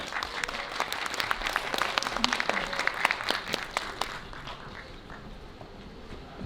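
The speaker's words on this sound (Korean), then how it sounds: "큰 박수 부탁드립니다" Steady audience applause fills a Korean content awards ceremony hall, dense clapping that holds for several seconds and then thins toward the end.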